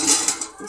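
A lid is set onto a metal cooking pot of lauki chana dal, making a short clattering clink of metal on metal, close and fairly loud.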